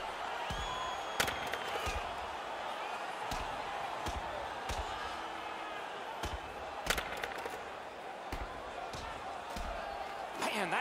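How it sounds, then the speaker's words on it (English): An ice hockey arena crowd roars during a fight on the ice, a dense sustained wall of cheering and voices punctuated by sharp bangs and thuds against the boards. "You can hear the crowd."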